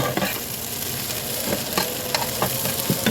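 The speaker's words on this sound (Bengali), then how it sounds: "আলুগুলো কিন্তু খুব সুন্দর একটু ভাজা ভাজা হচ্ছে" Fish and potatoes fry in a pan, a close, steady sizzle broken by several sharp scraping and stirring clicks as the pieces are moved and turned, with no voices.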